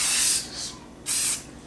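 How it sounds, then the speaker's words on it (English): Koenig stainless steel polish and detailing spray is sprayed from a trigger bottle onto a small stainless steel patch. Two short, sharp hissing bursts are separated by a brief pause, close and clear with no speech. "Give that a spray."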